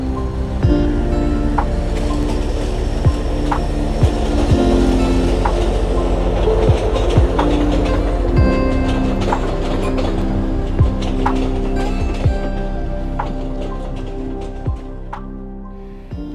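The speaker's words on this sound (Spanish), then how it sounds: "Hoy en día solamente están pasando trenes de carga que generalmente vienen desde Ventana hacia los Andes." A freight train rolls past on a railway line, a loud continuous rumble with rhythmic clickety-clack wheel impacts and metallic squeals close by, with no voices.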